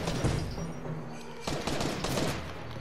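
Enemy gunfire in a Venom-themed symbiote challenge video game, dense bursts of rapid shots spraying in waves over a busy, noisy game soundscape, no voices.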